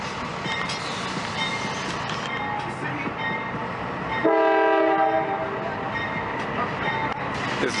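A big freight train rolls past in Valdosta, Georgia, a loud continuous rumble and clatter of cars with a blaring horn sounding midway for about a second.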